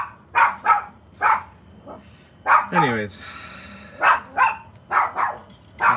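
A puppy gives a brief yelping bark in the middle of a stretch of nearby conversation, one short, sharp outburst standing out between the voices.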